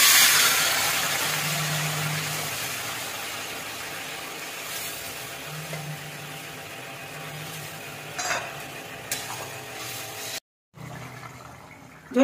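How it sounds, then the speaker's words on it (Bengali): Hot water is poured into a cooking pot of fried spices for a fish and kohlrabi curry, making a steady rushing, sizzling pour that continues for several seconds, then a brief silence and a few faint clinks. "গরম জল দিয়ে দিচ্ছি।"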